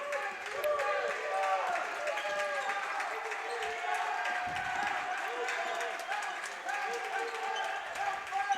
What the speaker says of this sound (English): most of it's coming from the Central Bears bench. They are cheering their teammates on.